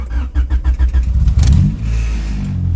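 A Honda H22 engine in an EK Civic cold-starts: rapid rhythmic cranking pulses for over a second, then the engine catches with a loud rev and settles into a steady close idle.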